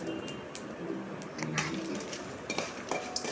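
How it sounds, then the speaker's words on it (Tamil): Dry chillies, spices and crushed dried ginger roasted in a pan over low heat, heard as a spoon or spatula repeatedly clinking and scraping against the pan, close and busy, with faint background sounds. "எல்லாத்தையும் போட்டு வறுத்து எடுக்கணும்."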